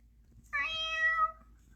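A single clear cat meow, drawn out for under a second against a quiet low hum, close and fairly soft, with no one speaking.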